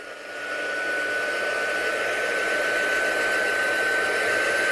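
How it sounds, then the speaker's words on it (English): A heat gun dries die-cut craft pieces. Its steady, loud blowing hiss switches on and holds constant with a thin high whine, and nobody talks over it. "I'm just going to give it a quick blast with a heat gun to make sure it's dried"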